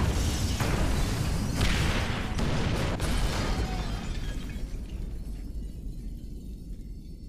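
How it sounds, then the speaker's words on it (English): A loud incendiary blast in GTA V during The Bureau Raid, with a roaring burst and crackling debris that slowly fades into a lingering rumble. "Detonate the incendiaries, Frank."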